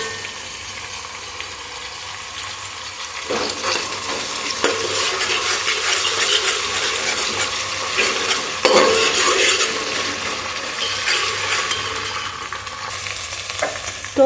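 Ginger garlic paste frying in a pan for kheema curry crackles and sizzles steadily, with spoon stirring and scraping against the pan heard up close throughout.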